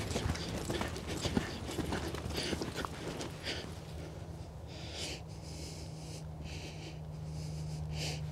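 Horse hooves thud in a steady rhythm as a young colt is ridden, picking up its leads, with a low constant hum beneath the hoofbeats.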